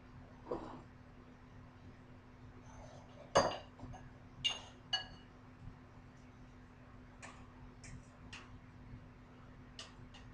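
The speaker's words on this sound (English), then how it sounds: "I'm going to get my bowl to transfer it." Scattered clinks and ticks of a bowl and kitchenware being handled while broccoli is moved into an ice bath, a few sharper knocks standing out against quiet room tone with faint talk.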